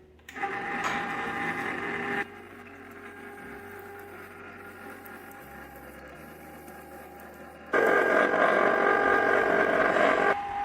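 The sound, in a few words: cheap ice cream maker churning strawberry ice cream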